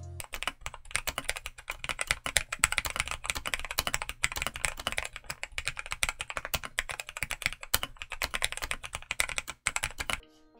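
Redragon K673 Ucal PRO 75% mechanical keyboard being typed on steadily, a dense run of crisp, close key clacks with brief pauses.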